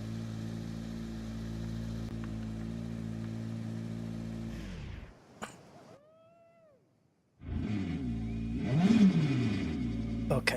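A car engine revs at low volume in a rally-style racing game, droning steadily, then falling silent briefly before revving back up louder.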